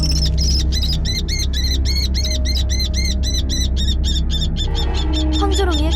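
A common kestrel gives a rapid series of loud, harsh, repeated calls at an owl's nest, sharp and evenly paced, ringing close over a steady low rumble before giving way to shorter squeals.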